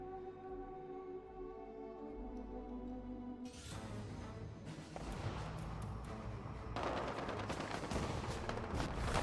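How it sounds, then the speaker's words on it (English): Explosions and rapid gunfire from combat during an infestation event in the Fallout 76 video game, starting after a quiet musical stretch and growing louder, with dense clattering bursts toward the end. "There's activity. I hear explosions."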